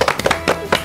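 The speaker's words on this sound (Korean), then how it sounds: "박수!" Brief burst of hand clapping from a small group at a Korean youth civic program's quiz segment, a few distinct claps close by with faint voices underneath.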